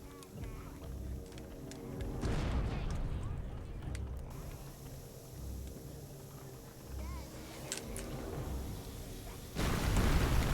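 A double explosion booms in the video game Overlord, with heavy low rumbling bursts around the middle and a sharp blast near the end, over continuous game noise and talk.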